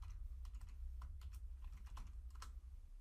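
Computer keyboard typing at a desk, a quick irregular run of close, light key clicks ending in a firmer press of the enter key, set over a steady low hum.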